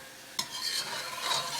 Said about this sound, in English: And you stir that, and you use that to deglaze the pork. And you scraping all the brown bits.